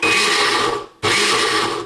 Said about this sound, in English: I've just put the lid on, and then, as I said, I'm going to blend these together now.